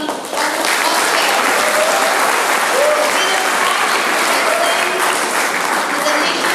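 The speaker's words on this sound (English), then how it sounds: "A round of applause for Mr." Audience applause at a church synod youth finale event, a dense, steady wash of clapping from a large crowd that holds evenly loud throughout.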